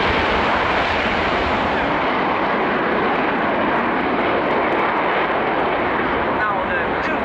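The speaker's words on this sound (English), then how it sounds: "This is the brake release and the take off from along the runway of Frecce Tricolori." Frecce Tricolori jet aircraft releasing brakes and taking off along the runway at RIAT 2018, a loud, continuous broadband roar that holds steady throughout, with a commentator talking over it.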